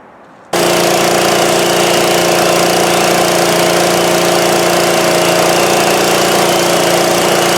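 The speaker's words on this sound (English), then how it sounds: "now I can tell it's in gear. And it's turning the motor over." A 1957 Harley-Davidson ST 165 motor is turned over in gear, starting abruptly after a short quiet moment and then holding a loud, steady mechanical drone and whir to the end.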